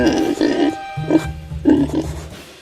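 Pig oinks and grunts, several short nasal calls in a row, loud and close, with a low rumbling grunt in the middle of the sequence and no talking.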